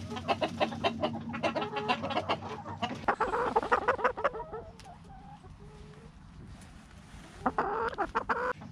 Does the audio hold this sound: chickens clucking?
yes